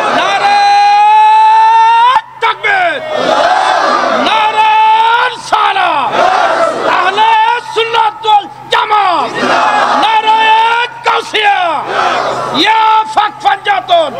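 Large crowd roaring back in unison to a takbir call at a Bengali Islamic waz gathering, repeated loud chanted shouts in rhythmic waves over a public address system, with a leader's voice calling between responses.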